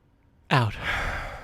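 A single audible exhale during a breathing exercise: a sudden breathy sigh, close and clear, that trails off into a softer, lingering breath.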